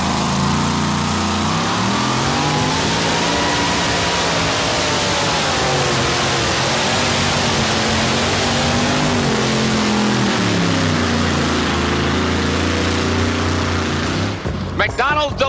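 A vintage delivery truck built like a 1960s hot rod roars at full throttle through a two-wheel drive super modified truck pull, its loud, droning engine rising and falling steadily with crowd noise behind until it cuts off near the end.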